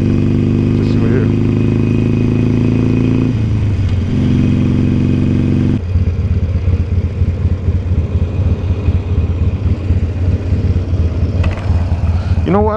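A motorcycle engine runs steadily during a late-night ride, humming loud and close with a shift in pitch partway through, while a rider talks over it.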